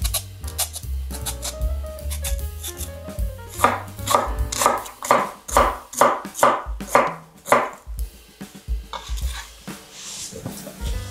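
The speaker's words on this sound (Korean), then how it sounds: "배는 껍질을 깎아 주시고요" A knife works the skin off a large pear in a kitchen during kimchi prep, giving a run of crisp, rhythmic scraping strokes that are loud and close, with a few clatters of utensils around them and no talking.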